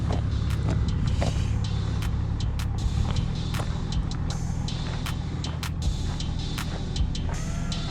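A tour bus idles and moves in a busy car park at Galvans Gorge near Mount Barnett in Western Australia, a steady low engine rumble with passing vehicle noise and occasional brake hiss, fairly close.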